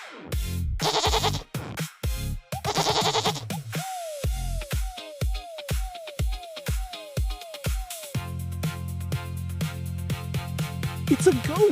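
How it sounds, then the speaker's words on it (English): Goat bleating with a couple of loud, wavering bleats, then a rapid run of short repeated bleats and a lower, steadier bleat at the end. "It's a goat."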